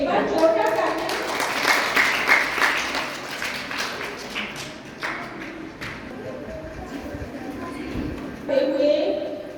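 An audience claps for a retiring teacher at a school farewell function, scattered applause swelling and fading under someone speaking.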